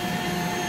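A vacuum cleaner pulls wasps out of the hole of their nest, and its motor gives a loud, continuous whine and rush from start to end.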